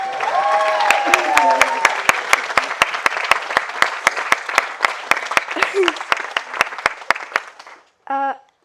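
Wedding guests applaud in a dense, sustained round of clapping with sharp periodic claps standing out and a few voices over it, ending abruptly before a brief burst of speech.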